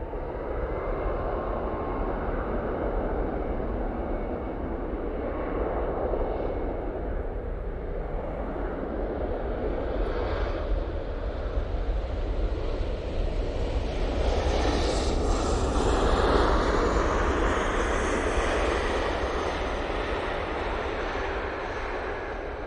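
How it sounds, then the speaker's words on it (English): A Ryanair Boeing 737 MAX 8 arriving from Rome roars steadily throughout as a broad jet rumble and whine that swells slightly toward the end as it passes closer, with no talk over it. "And we do have another arrival. This is the Ryanair from Rome, using the 737 MAX 8 for this flight."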